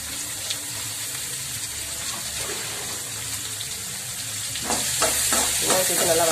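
Chopped onions hitting hot oil in a pan of tempered urad dal and dried red chillies for a drumstick leaves stir-fry, a steady sizzle that swells into louder crackling with a few scraping stirs near the end.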